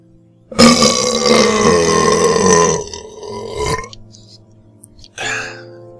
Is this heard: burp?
yes